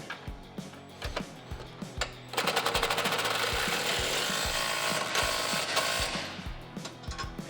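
A 3/4 inch socket tightens a suspension bolt on a 2018 Jeep Wrangler JL during a Rough Country 2.5-inch lift install: a few scattered metallic clanks, then a loud, steady, rapid rattling run of ratcheting that lasts several seconds before easing off.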